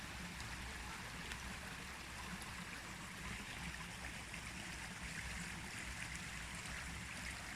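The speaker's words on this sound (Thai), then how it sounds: "น้ำไหล" Water flowing steadily over rocks like a small waterfall or stream outdoors in Germany, a continuous even rushing wash with no breaks, moderately close and alone.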